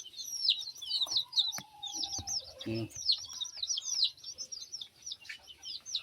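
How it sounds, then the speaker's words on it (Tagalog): Chicks peep constantly in a pen, their high rapid calls close and busy, with an adult chicken clucking now and then and a brief low thump partway through. "Ito na yung mga sisiyo. Nilipat ko na sila dito."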